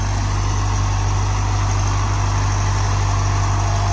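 A Mahindra Novo 605 DI CRDI 60 HP tractor engine runs steadily and loudly up close, a constant low rumble with a strong droning hum that holds unchanged throughout.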